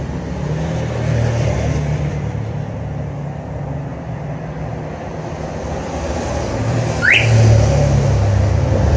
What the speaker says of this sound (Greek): Τα ακούσαμε και το αυτοκίνητο κλείδωσε.